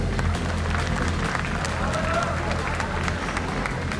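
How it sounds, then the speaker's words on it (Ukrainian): An arena crowd at a KLAN FC bare-knuckle fight night applauds the fighter Yakub, a steady roar of clapping and crowd noise that carries evenly throughout without clear breaks. "Оплески Якупу!"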